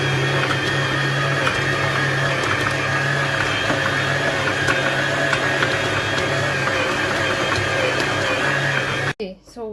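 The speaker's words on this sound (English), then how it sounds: "I'm going to put it on medium speed and knead it with a dough hook for 4 minutes" Stand mixer with a dough hook kneading yeast bread dough at medium speed, a loud steady motor whir with rhythmic thumping that holds for about nine seconds, then cuts off abruptly.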